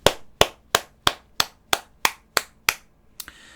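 A group at a sales team meeting claps in unison, nine sharp, evenly spaced claps in a steady rhythm, close and loud, ending with a softer scuffle.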